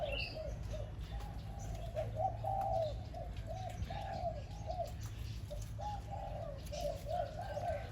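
Crossbred dove cooing in a repeated series of soft, rolling coos at a steady rhythm, fairly close and alone, over a low constant background hum.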